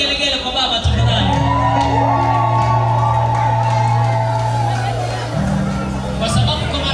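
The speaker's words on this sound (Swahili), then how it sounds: "Naomba vigelegele kwa baba tafadhali." Crowd at a 50th anniversary celebration ululating and cheering for the father, loud sustained trilling calls and shouts from several voices over chatter, swelling and holding for several seconds.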